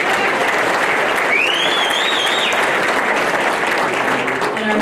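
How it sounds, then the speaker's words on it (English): Loud, dense applause from a crowd at a chamber of commerce charity auction in Windsor, sustained evenly throughout, with a faint whistle rising briefly above the clapping. "Round of applause for them"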